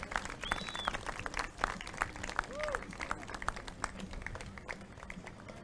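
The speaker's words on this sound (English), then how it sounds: "I think we should give our patient a big round of applause" An outdoor crowd at an emergency services demonstration of a vehicle rescue claps in sustained applause, steady and moderately distant, with whistles and voices mixed in.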